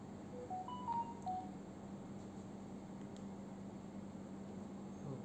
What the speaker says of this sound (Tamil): கேஸ் நோட்டிஃபிகேஷன் சவுண்டு வெளியிலையும் வருது, உள்ளேயும் வருது